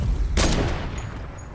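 A single sharp gunshot cracks out near and loud in the Fortnite video game, then trails off into a fading rumble with faint background noise.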